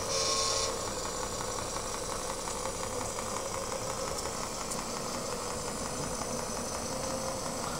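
A Shaanxi RC model truck (XC6 SX2150) drives slowly, giving a steady, continuous mid-pitched electric motor and drivetrain whine with faint vibration, close and even throughout.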